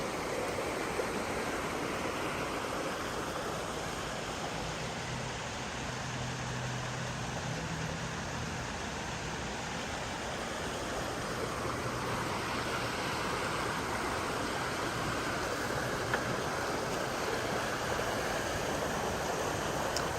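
Water in Ivy Creek rushes in a constant, even wash of noise, soft but unbroken throughout with no voices.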